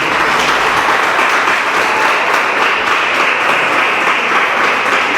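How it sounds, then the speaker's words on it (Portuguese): A church congregation claps hard and steadily in a dense, loud wash of applause that fills the room without pause, with no voices standing out. "Pode sentar e bater as palmas bem forte para o Senhor Jesus."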